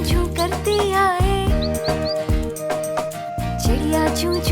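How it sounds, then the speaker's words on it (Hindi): Chirping bird sound effects recur as short, high upward tweets woven into the bouncy music of an Urdu children's nursery rhyme about a little bird. "चिड़िया चूं चूं करती आए"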